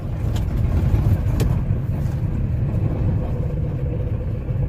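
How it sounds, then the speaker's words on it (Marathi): A vehicle comes toward the car on the road and passes, a steady engine and road rumble with brief clicks early on that eases slightly near the end. "आणि गाडी आली आहे समोरून"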